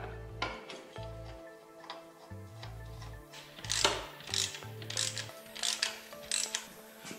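A ratchet wrench clicks in short bursts while a flywheel nut is torqued down on a Predator 224 small engine fitted with a cast aluminum flywheel, with close, crisp metallic ticks and pauses between strokes.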